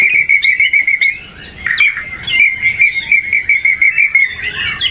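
A magpie robin (murai) sings with cililin-style mimicry: rapid, loud, close whistled phrases of repeated sharp chirps and trills, broken by brief pauses.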